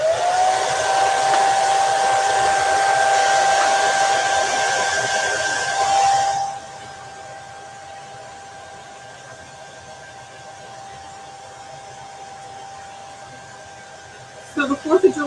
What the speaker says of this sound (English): I'm going to hit that with my blow dryer.